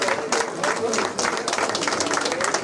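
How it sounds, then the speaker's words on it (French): Spectators at the Boucles Tourquennoises race clap for the women's race winners during the podium photos, a steady crowd patter with a voice carrying over it. "On peut les applaudir encore bien fort"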